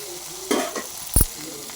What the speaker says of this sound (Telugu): ఫ్రై అవుతూ ఉన్నాయి బీరకాయ ఎండు రొయ్యలు